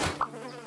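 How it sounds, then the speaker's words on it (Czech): Flies buzzing around a trash can in a zombie video game, a short, close insect drone with a brief louder whine over a steady game hum. "Tady je popelnice, okolo který lítají mouchy"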